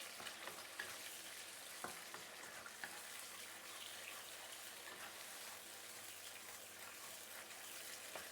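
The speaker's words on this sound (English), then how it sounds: "Saute this for a minute or two before we continue." Tomato chunks sauté in a pan, a faint steady sizzle with a few soft clicks of utensils, quiet and continuous with no voices.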